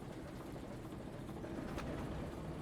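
A small, powerful train running on rails, a faint, steady rumble with a low rolling noise that carries on without a break, heard from some distance, with no talking.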